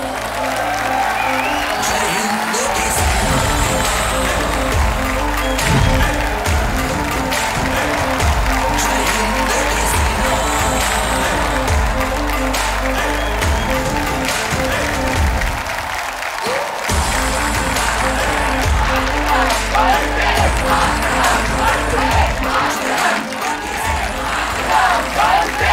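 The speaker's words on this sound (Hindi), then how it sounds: "तालियों के साथ उनका स्वागत किया जाए।" Studio audience applause on the Kaun Banega Crorepati 14 stage welcoming guests, a steady loud wash of clapping running throughout with a brief dip midway and a low rhythmic music bed beneath.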